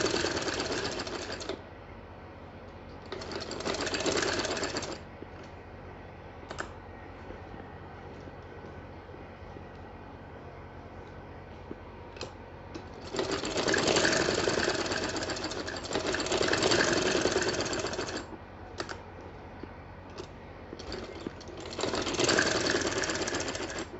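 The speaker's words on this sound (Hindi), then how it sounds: "तो दोनों साइड से मैंने स्टिचिंग कर रही हूँ।" A sewing machine stitches small fabric pieces along both sides in rapid mechanical chattering bursts of a few seconds each, separated by quieter pauses, close and fairly loud with no talking.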